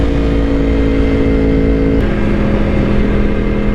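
A sport motorcycle, a Yamaha R1 or Honda CBR1000RR, drones with a loud, steady engine roar at speed, with a sustained tone that shifts slightly in pitch partway through as the bike pulls on, with no talk over it.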